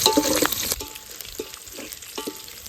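Chicken curry stirred in a pan with red chillies and onions, soft scraping strokes repeated at a steady pace over a faint sizzle, close and without talk.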